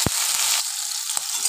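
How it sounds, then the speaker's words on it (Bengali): Chopped onion and a green chili fry in hot oil with a steady close sizzle, broken by a couple of sharp spoon knocks against the pan. "এবারে কেটে রাখা পেঁয়াজ আর একটা কাঁচা লঙ্কা দিয়ে দেব।"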